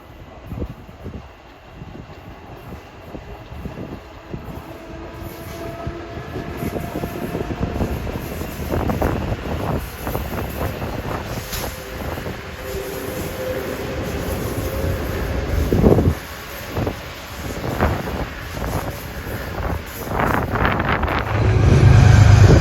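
A Metro-North train departs Scarborough station for Grand Central, a rumbling of rail cars that builds toward the end with rhythmic wheel clatter and heavy wind buffeting the microphone outdoors.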